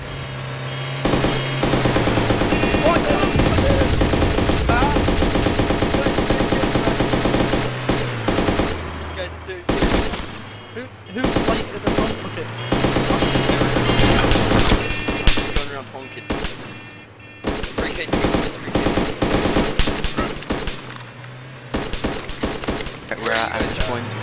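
Rapid bursts of automatic gunfire in DayZ, loud sustained volleys broken by short pauses, with some people talking and laughing over the shooting.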